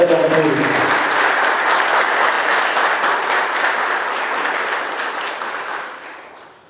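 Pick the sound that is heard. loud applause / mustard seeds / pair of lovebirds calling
loud applause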